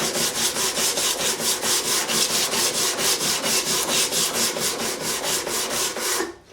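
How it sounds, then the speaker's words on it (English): Bouzouki frets being sanded by hand with sandpaper wrapped on a block make a rhythmic back-and-forth rasp, about four strokes a second, steady and close, ending abruptly with no speech. "So I said I'll soldier on and do it just with sandpaper and a block"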